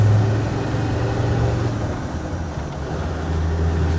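A customised Land Rover Defender 110 TD5 pulls in second gear, its diesel engine droning steadily from inside the cab with a gentle rise and fall in loudness.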